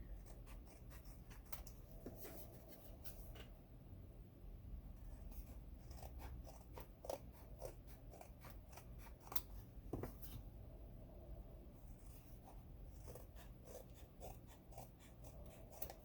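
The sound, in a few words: scissors trimming paper for notebook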